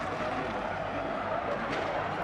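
A Formula E race car in Mexico losing its rear end and skidding: a steady, dense roar of tyre and motor noise sustained at even loudness, with a slight rise toward the end.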